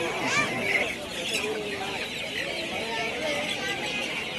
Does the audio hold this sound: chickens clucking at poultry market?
yes